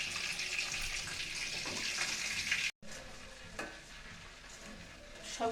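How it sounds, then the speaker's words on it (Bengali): Chicken chaap pieces sizzling in hot oil in a pan as they are lifted out, a steady bright frying hiss with a brief gap and a few soft scraping clatters. "চিকেন চাপগুলো ভাজা হয়ে গেছে, এখন উঠিয়ে নিচ্ছি একটা প্লেটে।"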